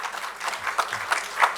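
Audience applause at a Blood For Army award function, a steady patter of many hands clapping at moderate level with a few brighter claps standing out, continuing without talk.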